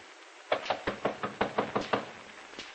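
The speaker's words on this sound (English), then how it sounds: "there's a knock on her bedroom door" About nine firm, evenly spaced knocks rap on a bedroom door in an old-time radio drama, sharp and close, in a quiet room.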